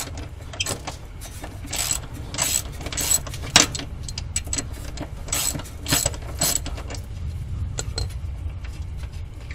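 A ratchet wrench tightens a bolt while a CUSCO floor center power brace is installed on a Subaru WRX STI VAB, giving quick bursts of clicking pawl strokes with metallic clinks and pauses between them.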